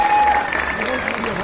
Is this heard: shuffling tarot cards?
no